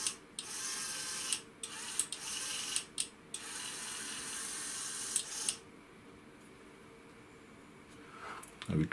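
A small motor inside an aircraft pressure altitude transducer runs to hold the pressure steady, making a quiet mechanical whir and ratchet-like ticking that starts and stops in short runs, with clicks scattered through it.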